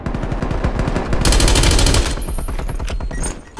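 Rapid gunfire from a suppressed FARA 83 in Call of Duty Warzone rattles out as a fast burst of shots, loud and close, then breaks into shorter bursts and trails off.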